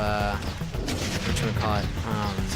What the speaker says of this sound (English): Seems like those two Gatling guns are doing a fine job of